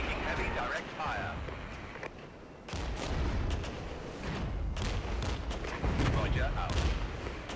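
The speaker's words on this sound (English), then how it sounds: "Taking heavy direct fire." Heavy gunfire in the modern combat game Regiments, with bursts of loud rapid shots and impacts after a brief quieter gap, while a radio-style voice speaks briefly over the noise.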